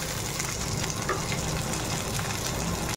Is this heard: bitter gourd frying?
yes